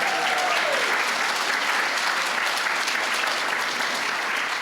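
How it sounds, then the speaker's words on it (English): A school celebration audience claps loudly and evenly for a student presenter. The dense applause fills the room, with a voice briefly audible beneath it at the start. "we can give her a round of applause"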